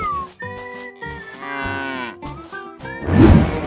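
A cow moos in a long, drawn-out call, loud and close, followed by a brief noisy burst at the end.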